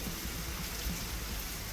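Steady rain falls outdoors near a Shiva temple by a waterside landing in Poonakari, a continuous even hiss of drops with no voices.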